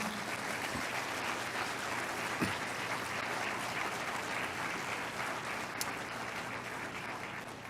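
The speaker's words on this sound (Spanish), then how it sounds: "Y eso merece un aplauso al Señor." A church congregation breaks into sustained applause, a dense, even roar of many hands clapping at once that continues steadily with a few stray louder claps.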